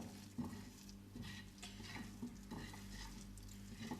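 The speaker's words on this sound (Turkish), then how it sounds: "karıştırıyorum tekrardan. Şu şekil karıştırıyorum." A şekerpare dough mixture is stirred in a bowl, giving quiet, soft repeated scraping and swishing strokes close by with occasional light knocks against the bowl.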